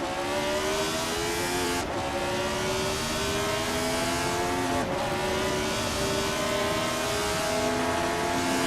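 A Ligier JS5 race car's engine in a racing video game drones loudly and continuously, its pitch climbing steadily through the gears with two abrupt shift drops, sustained at full throttle.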